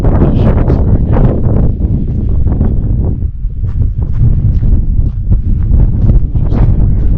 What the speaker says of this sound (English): It is starting to get very windy up here, as I'm sure you can hear.